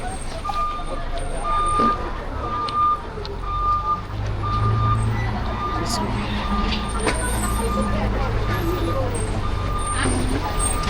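Baguio street traffic with jeepneys makes a loud, continuous low engine rumble close by. A repeating reversing beep runs through it, with people talking nearby.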